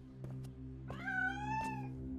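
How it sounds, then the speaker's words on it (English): A cartoon cat lets out a single drawn-out, wavering meow, close and clear over a low steady hum, preceded by a couple of soft clicks. "She's here, the kitty!"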